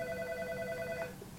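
A telephone rings with a steady electronic trill, clear and fairly close, the ring stopping just before the end with no talk over it.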